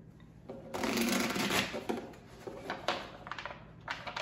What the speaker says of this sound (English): let's go ahead and pull, pull some cards for the energies around you